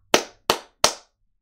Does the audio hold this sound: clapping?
yes